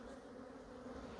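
Honeybees buzz steadily around an opened hive full of larvae at a quarantine apiary, a faint, continuous drone with no break.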